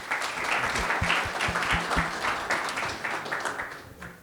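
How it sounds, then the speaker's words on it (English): Applause from an audience welcoming Dr. Cole Short of Pepperdine onto a panel, a dense, even crowd clapping that holds steady at moderate loudness for the whole stretch. "Let's give him a round of applause."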